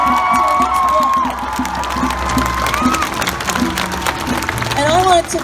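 A large crowd at a Black Lives Matter protest in Melbourne, a continuous loud roar of voices with cheering, clapping and shouts, a nearby voice rising above the din.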